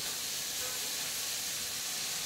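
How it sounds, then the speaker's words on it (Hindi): Cooked cauliflower and potato in a pan with sauce poured over them give an even, close sizzling hiss that continues unbroken throughout. "सॉस डाल दिया, फिर उसको मिक्स कर देंगे।"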